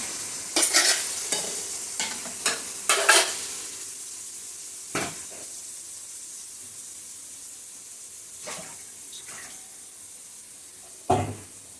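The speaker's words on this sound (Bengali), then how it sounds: "যত কষানো হবে তত তরকারির স্বাদটা ভালো হবে।" Potato and jackfruit seed curry being sautéed and stirred in a pan, with a steady sizzle and a run of loud scraping stirs near the start, then quieter frying with a few occasional scrapes.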